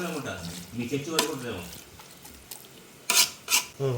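Bread halwa is stirred in a pan, soft scraping and clinks of a spoon against the metal, with a few sharper knocks near the end, under a voice talking.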